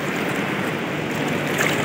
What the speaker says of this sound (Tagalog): So medyo malakas ang alon